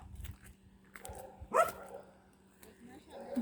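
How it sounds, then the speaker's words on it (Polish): Nearby, a dog on a short road in Croatia gives a few sharp barks in separate bursts over faint background noise. "Piesku, nie szczekaj."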